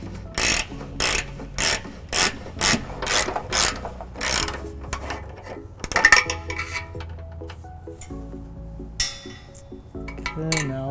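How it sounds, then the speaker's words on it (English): A ratchet fitted with a 5-inch extension and 17mm socket works trailer hitch bolts loose on a 2012 Toyota Prius Plug-In, a run of loud, evenly spaced clicking bursts up close, followed by scattered metallic clinks and handling noises. "I'll be using a ratchet 5-inch extension and 17mm socket to take these down."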